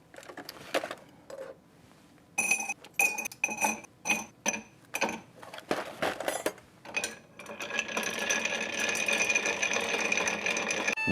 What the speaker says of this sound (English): You want to stir for a long time because you want to get this drink really, really cold.